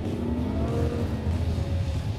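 A Ferrari FF supercar drives with a steady, close engine drone from inside the cabin, a low rumble holding at moderate revs throughout while the car slides slightly.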